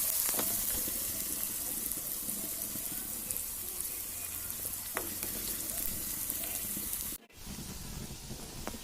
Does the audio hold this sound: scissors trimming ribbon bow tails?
no